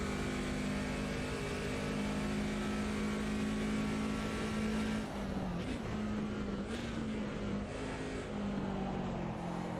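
A BMW 2002 Turbo with a manual gearbox in the racing game Automobilista 2 at Hockenheim '77 drones steadily at high revs, with the engine note dipping and shifting briefly midway, loud and continuous throughout.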